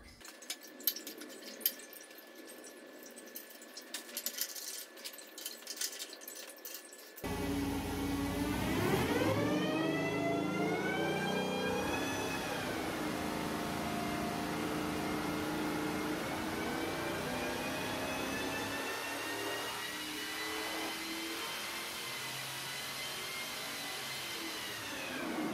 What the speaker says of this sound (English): After testing the airflow of the AMR500 supercharger with the factory inlet and outlet basically open, so free-flowing